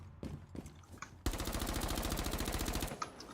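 A rifle fitted with an ACOG scope fires in a first-person shooter game on the Oregon map: one loud, rapid automatic burst of evenly spaced shots that lasts over a second, with a few faint clicks before it.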